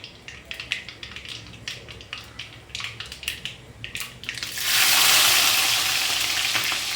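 Chopped onions and green chillies drop into hot oil in a pan for a village-style tomato egg curry, setting off a loud sudden sizzle after a stretch of scattered clicks and scraping.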